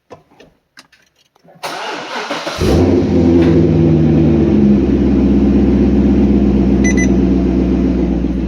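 A C6 Corvette V8 cranks and fires into a loud, steady idle that holds with a deep, rumbling drone, preceded by a few faint clicks and a brief surge at ignition; no revving is evident.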